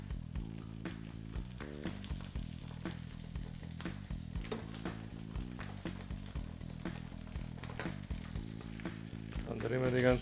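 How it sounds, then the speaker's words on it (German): Chicken thigh laid skin-side down in a hot pan, frying with a steady, dense sizzle throughout, close and alone, with faint stirring taps and a louder crackle near the end. "Mit der Hautseite als erstes in die Pfanne legen."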